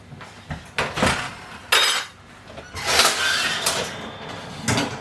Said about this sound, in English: Pull out the first rack, and then I'm just going to grab the pizza, place it straight on the rack.